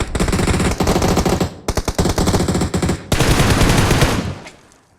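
PUBG video game gunfire: long, loud bursts of rapid automatic fire with a brief pause between volleys, ending in a fading echo.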